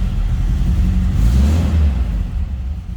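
A 1967 Sunbeam Alpine Series V inline four-cylinder engine with twin Stromberg carburetors, running after a cold start as a close, steady low rumble that swells briefly midway, then settles.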